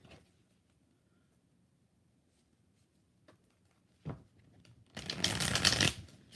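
A tarot deck is shuffled during a live card reading: a few faint taps and a short riffle, then a louder, dense shuffling burst lasting about a second near the end, with no talk.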